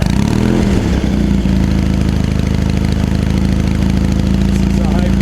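A vintage Triumph engine warms up with a steady, loud, continuous idle drone that stays even throughout, with no revving.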